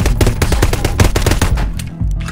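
Loud rapid bursts of automatic gunfire in Garry's Mod DarkRP, close and continuous for about two seconds before a brief break and a final shot.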